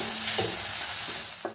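Ground spices (turmeric, coriander powder, red chilli masala) sautéing in oil for a bitter gourd curry: a dense, loud sizzle with a couple of brief stirring scrapes, close up and without speech.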